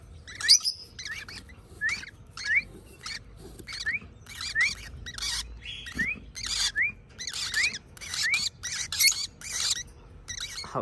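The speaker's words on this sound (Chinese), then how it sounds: "又到了喂小鸟的时间了" Hand-reared baby parrot chicks chirp and squeak at feeding time, a rapid run of high, close tweets and rising calls repeating throughout with soft rustling beneath, no voices.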